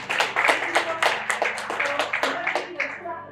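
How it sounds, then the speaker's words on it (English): A crowd claps in a steady burst of applause at a women's equity conference event, fairly close, with a voice carrying over the sound. "So give them all a round of applause."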